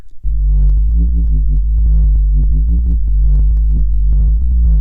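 A Serum sine-wave sub bass with a touch of saw wave plays a sustained, deep, clean tone with a rhythmic bass line pulsing over it, loud and alone.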